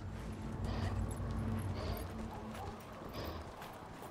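A horse's hooves clip-clop in a steady walking rhythm in the fantasy video game Dragon Age Inquisition, fairly quiet and close, with low ambient game sound underneath and no talking.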